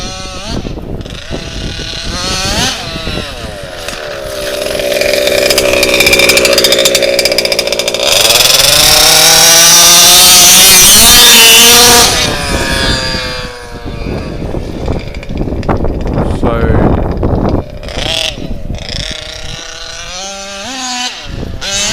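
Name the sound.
HPI Baja RC car with RCMAX 90 engine running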